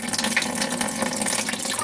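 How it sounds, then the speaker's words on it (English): Water running steadily into a container of fermented tomato seeds, a continuous close splashing pour with no voices. "Add some more water."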